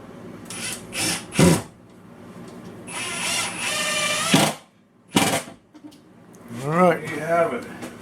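A screw is driven with a power drill into a pre-drilled hole while a kitchen cabinet is installed, coming as several short, close whirring bursts with brief pauses between them; someone talks over some of the bursts.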